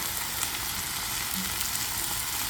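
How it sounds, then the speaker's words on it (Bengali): Fish fillets fry in oil in a pan, making a dense, steady, close hiss of sizzling that continues unbroken, with no voices. "2 পিঠ এরকম করে ভেজে নিয়ে তুলে নেব"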